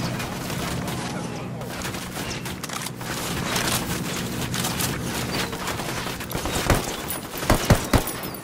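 A firefight in Ghost Recon Wildlands erupts in dense, rapid gunfire, with bursts of automatic shots and heavier booms stacking up and peaking sharply toward the end.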